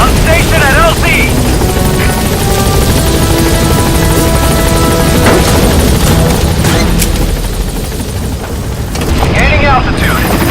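The Pequod helicopter in Metal Gear Solid 5 arrives at a landing zone with loud, constant rotor thrum and engine whine. Radio-style voices speak over it.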